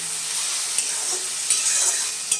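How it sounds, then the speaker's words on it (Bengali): Onions fry in hot oil with a loud, continuous, hissing sizzle, close up, with a few faint clicks of stirring. "গরম তেলের মধ্যে পেঁয়াজটা ছেড়ে দিলাম। পেঁয়াজটা ভালো করে লাল করে ভেজে নিচ্ছি।"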